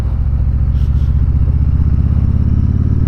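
A Harley-Davidson Tri Glide Ultra trike engine drones steadily and loudly at about 25 mph while riding, a continuous low throbbing rumble with no talk over it.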